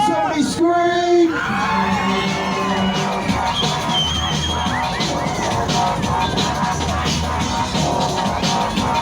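Riders scream and whoop on a funfair ride at a seaside promenade bonfire night, a loud crowd of yells and cheers over constant ride machinery and background music, with amplified speech at the start.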